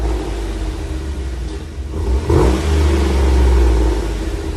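A stock 2009 Chevy Suburban 5.3L V8 exhaust idles with a deep, steady rumble, then swells into a short, throaty rev that settles back to a heavy drone, close and loud.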